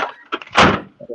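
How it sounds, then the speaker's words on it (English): A door being opened nearby: a few quick rattling knocks followed by a louder thud-like clunk and a brief shuffle, all within about a second. "Sounds like Jeff opening the door"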